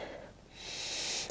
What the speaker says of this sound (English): One big breath in and out